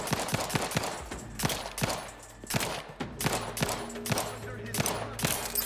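Rapid gunfire in the sci-fi video game The Outer Worlds 2, dense bursts of sharp shots in quick succession with brief pauses between volleys, loud and close.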